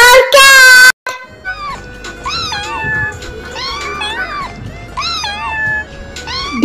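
A cartoonish cat meows several times in a row in a children's alphabet song, the calls clear and upfront after a brief sung opening.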